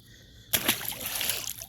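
A sudden splash breaks the quiet as a channel catfish is tossed back into the Congaree River, followed by a second of sloshing and dripping water close by.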